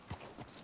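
Horse hooves clip-clopping in a Western video game, a short run of soft, fairly quiet steps with faint background noise.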